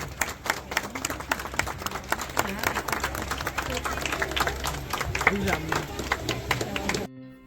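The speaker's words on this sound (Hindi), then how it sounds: "जोरदार तालियों से।" A group of people at a school academy ribbon-cutting inauguration claps, with individual claps distinct and fairly close in an uneven rhythm for about seven seconds before stopping abruptly.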